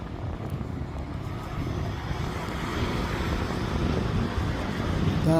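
An Alexander Dennis Enviro400 MMC Scania double-deck bus drives along a street in Gloucester, its low engine rumble growing steadily louder as it approaches, with a short squeal at the very end.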